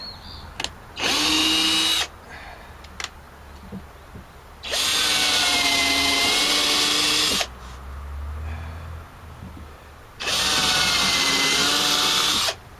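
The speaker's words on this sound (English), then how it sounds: "I'm drilling and the damn bit is in the wood." Three loud bursts of a power drill whining at high speed into wood, with the bit getting stuck, each lasting a couple of seconds, separated by quieter pauses with a low rumble.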